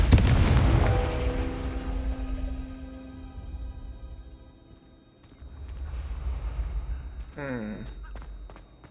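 A Confringo fire spell bursts in the Hogwarts Legacy video game with a loud explosive boom at the start, its rumble fading over several seconds. A second rumble and sharp magical zaps come later, with a voice talking over part of it.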